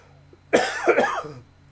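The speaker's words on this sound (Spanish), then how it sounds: "Perdón por toser y no parar la cámara" A short, harsh coughing fit, close and loud, with two or three rough bursts run together and no talking.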